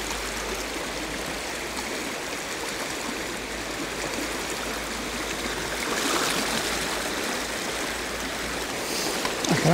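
A river running steadily through a snowy grayling fishing spot, a broad continuous rush of flowing water that swells slightly partway through, heard alone with no talking.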